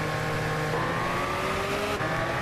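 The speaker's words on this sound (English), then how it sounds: "I can already hear the turbo, sounds amazing." A turbocharged car engine in Gran Turismo 6 drones steadily at cruising pitch, with the tone sweeping gently upward as it pulls, loud and close with no talk over it.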